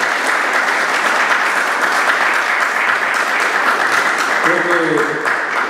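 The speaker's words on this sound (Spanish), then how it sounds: "Fuerte palmas para José Pedro." Audience applause after a lecture on Andean and European music, a dense steady clapping from a large crowd throughout, with a voice briefly heard near the end.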